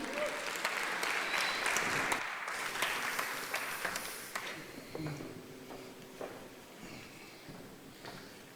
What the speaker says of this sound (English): A round of applause for them for a job well done.